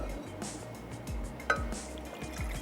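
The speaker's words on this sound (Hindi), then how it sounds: "इसमें मैं ऐड करने जा रही हूँ 2 कप पानी।" Water poured into a saucepan for a homemade dahi phulki recipe, a soft trickle with small splashes and a sharp clink of metal or glass partway through, quiet and close.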